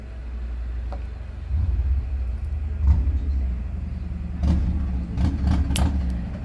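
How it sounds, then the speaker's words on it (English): A motorcycle engine rumbles low and steady in the distance, swelling slightly as it approaches, with faint knocks and clatter nearby. "yes, because I hear the motorcycle."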